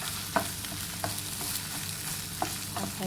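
Eggs stir-fry in a hot pan for an okra and egg dish, giving a constant sizzle broken by a few sharp scrapes of the spatula at irregular intervals, close and clear with no talking.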